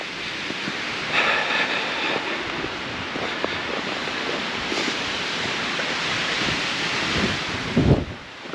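Strong wind on Dartmoor near Princetown buffets the microphone in continuous rushing gusts, swelling louder at moments, with no voices.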